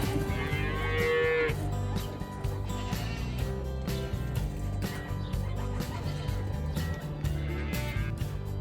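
A Jersey heifer moos repeatedly at close range, loud and drawn out, with chickens clucking in the background on a farm and no talk over it.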